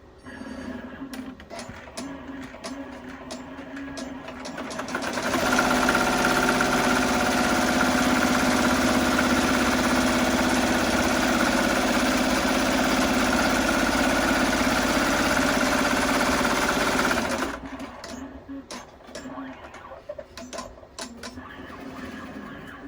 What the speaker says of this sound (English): placement stitch for my first fabric, which is going to be the front of the boot